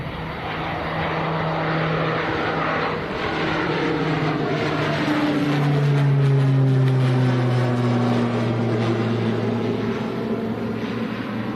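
An airliner taking off at Manchester Airport, a loud, sustained engine roar with whining tones that slide downward as the jet climbs away and passes.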